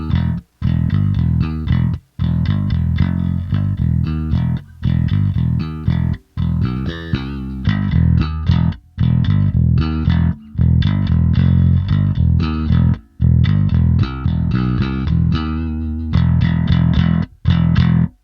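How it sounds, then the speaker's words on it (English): A Warwick bass guitar plays through an Orange Two Stroke Boost pedal into an overdriven tube amp, giving a gritty, distorted tone in repeated rhythmic phrases of plucked notes with short pauses between them. "now playing a Warwick bass"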